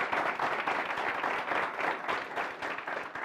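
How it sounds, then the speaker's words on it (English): A hall full of university students applauds with dense, continuous clapping that holds an even level throughout. "Give yourselves a huge round of applause."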